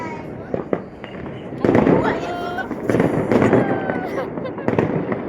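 Fireworks bang and crackle in repeated bursts, loud and near, with whistling streaks, while people talk and exclaim throughout.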